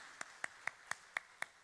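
A church congregation claps in thanks for its elders: six sharp, evenly spaced claps ring out about a quarter second apart, each one crisp and distinct, with no talk in between.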